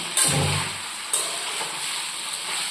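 Potatoes fry in a pan, giving a steady bright sizzle and hiss with two sharper bursts as the food is stirred or shifted. It is close and fairly loud, with no talking.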